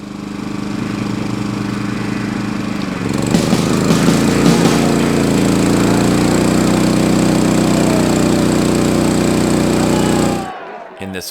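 Champion 3000W inverter generator running under heavy load, a steady mechanical drone that grows louder and busier after a few seconds, holds evenly, then cuts off near the end.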